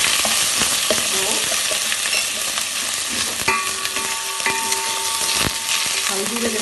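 Turmeric fries in melted butter in a pan, giving a loud, constant, close sizzle with stirring scrapes and occasional knocks against the pan.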